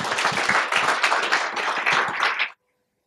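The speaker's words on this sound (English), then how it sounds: "so big round of applause" Conference audience applause at a Swift programming event, dense clapping sustained for about two and a half seconds before stopping abruptly into silence.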